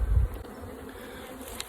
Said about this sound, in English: So I'm gonna sit with the bees. You can watch the bees